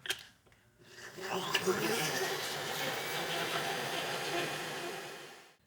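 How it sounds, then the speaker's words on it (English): A blender starts up and runs its cycle on a creamy pasta sauce, settling into a steady, whirring motor drone after a brief pause at the start, moderately loud and continuous until it stops at the end. "Over to the blender."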